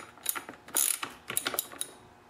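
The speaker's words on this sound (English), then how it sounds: "before doing the final tightening, just pull the bar up and then tighten up the nuts" Chainsaw bar nuts being tightened with a wrench, a close series of rapid ratcheting clicks in two short bursts with a brief metallic scrape between them, no talk.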